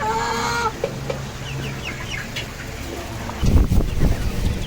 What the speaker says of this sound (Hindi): इधर अंदर भी चूज़े काफ़ी शौक से वाटरमेलन खा रहे हैं।